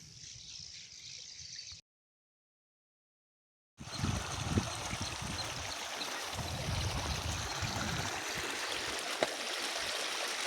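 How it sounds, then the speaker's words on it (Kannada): Water runs steadily from an irrigation channel on farmland, a continuous close rushing trickle that drops out briefly for a couple of seconds before returning at the same level. "ಸೊ ಇದು ಚಾನಲಿಂದ ನೀರು ಬರುವಂಥದ್ದು."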